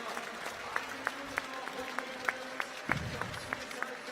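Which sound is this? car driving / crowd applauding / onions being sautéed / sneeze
crowd applauding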